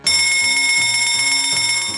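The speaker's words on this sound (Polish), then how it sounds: "Dzwonek." In a video game, a bell rings continuously with a bright, sustained metallic tone, struck in rapid repeated pulses like an electric alarm bell, loud and close.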